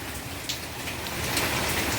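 Steady rain falls during a windy storm in Surendranagar, making a dense, even patter on surfaces with a few sharper drop hits. The rain grows slightly heavier toward the end.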